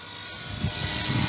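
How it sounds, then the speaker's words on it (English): Blade Eclipse 360 RC helicopter in Coast Guard livery flying simple maneuvers in idle-up stunt mode, a steady broadband rotor and motor whir with pulsing low thrum, continuous and fairly close. "So beautiful, absolutely gorgeous helicopter. We're just doing a little bit of simple maneuvering."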